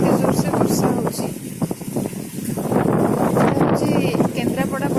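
Heavy monsoon downpour with wind in Pattamundai, Kendrapara, a loud steady hiss of rain and gusty buffeting close by, while someone talks over it throughout.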